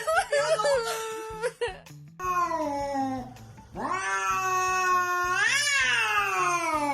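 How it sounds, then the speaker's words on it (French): A cat yowls and caterwauls at its own reflection in a mirror, loud drawn-out wails rising and falling in pitch, broken by short meows and a brief pause. "Penses-tu que ce chat a pris son reflet dans le miroir pour un intrus"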